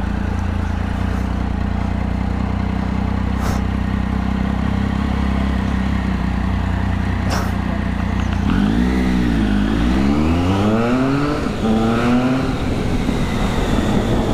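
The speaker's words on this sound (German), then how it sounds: "Nächste Aufgabe für mich, einfach geradeaus fahren unter dieser Brücke hier." A car drives straight ahead under a bridge with a steady, loud engine and road rumble. Toward the end the engine note rises and falls as it revs and shifts.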